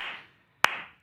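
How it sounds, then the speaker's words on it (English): Two sharp hand claps about half a second apart during a beginner piano lesson, crisp and close, the second louder, each with a short roomy tail and no talking. "So you can clap along."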